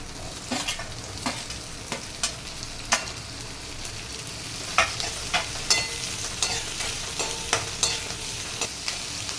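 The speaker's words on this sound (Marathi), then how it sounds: "इथे आपल्याला कांदा परतून घ्यायचा आहे थोड्या तेलावर हा पण चांगला लाल होईपर्यंत परतायचा आहे" Chopped onion sautéing in a little oil, cooked until reddish brown for a patvadi rassa gravy: a steady close sizzle broken by sharp, regular spatula scrapes and taps, with no talking.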